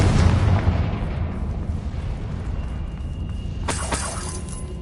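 A Confringo fire spell is cast in Hogwarts Legacy, a loud broadband blast that rumbles on for several seconds, with a sharp crackling burst near the end and no speech.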